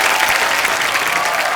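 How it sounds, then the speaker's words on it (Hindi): Studio audience at a television comedy show breaks into loud, dense applause, a continuous wash of clapping from a large crowd lasting under two seconds. "जोरदार तालियां"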